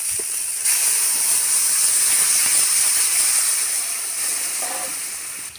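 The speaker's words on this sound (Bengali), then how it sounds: "এবারে ঝোলটা ঢেলে দিলাম।" Fish curry broth is poured into a hot pan and hisses loudly and steadily, the bright hiss rising suddenly and then fading slowly toward the end.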